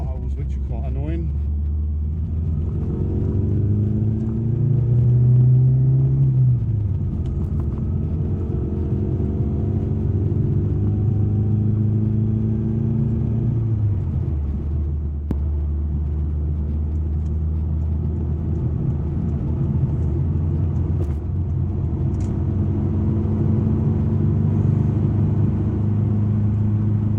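Classic Mini car driving on a pothole-marked road, its engine droning steadily with rising and falling revs through gear changes, close interior rumble throughout with road noise beneath.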